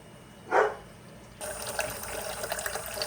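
A brief splash, then cold water runs steadily from a tap into a sink over thawing shrimp, close and moderately loud.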